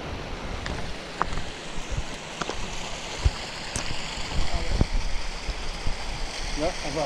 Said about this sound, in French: Alors là, on arrive à une petite cascade.